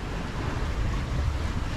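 Waves on the Mediterranean Sea wash against a sailboat in a continuous broad rush mixed with wind noise.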